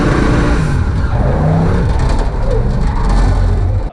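A race car engine is heard revving on and off the throttle, loud and close, its pitch rising and falling over a few seconds, with some birdlike chirps mixed in.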